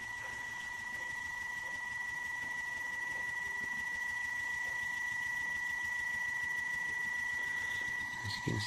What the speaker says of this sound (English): DC motor